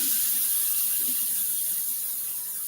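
Tap water runs into a kitchen sink, rinsing a strainer, with a steady close hiss that fades slightly toward the end and no talking.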